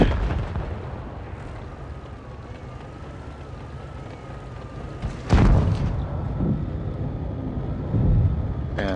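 IS heavy tank firing its 122 mm gun in a tank combat video game, one loud close boom with a rumbling tail over steady engine drone, followed by a smaller second blast.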